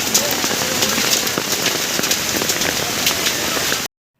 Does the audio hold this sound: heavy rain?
yes